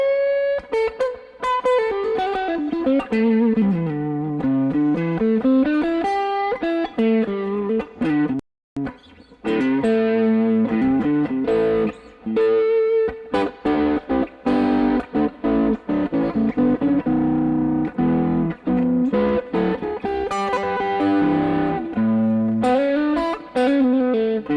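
Electric guitar played through an overdrive pedal set all the way up, a continuous run of distorted melodic notes and chords, loud and alone with one brief pause.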